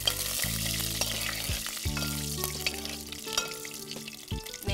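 Cashews fry in hot ghee over a burner, a steady close sizzle with bubbling crackle and a few stirring scrapes, heard alone without talk over a faint background hum.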